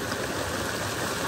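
Fresh, cold water pours steadily from a tube well outdoors, a loud continuous rushing splash with no pauses.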